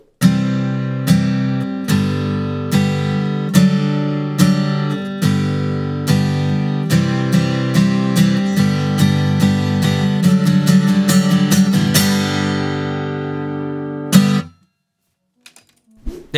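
An acoustic guitar strummed in fast, steady 16th-note downstrokes sounds loud and close with bright, driving chords. It runs evenly for about fourteen seconds and then stops, leaving a few faint clicks.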